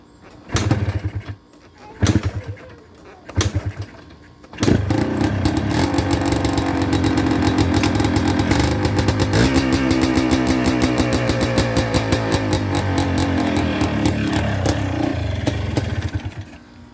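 Engine of a 2004 Yamaha Blaster ATV with the choke off: a few short sputtering attempts to fire up, then it catches and runs with a steady, loud, rough idle that carries on to the end.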